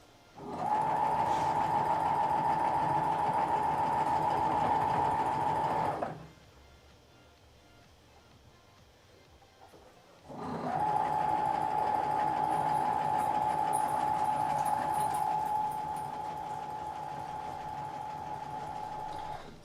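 A sewing machine runs at a steady hum, stitching seams that have been pressed down, as they pass under the presser foot. It pauses for about four seconds, then resumes and runs on at a slightly lower level, close and loud, with no speech.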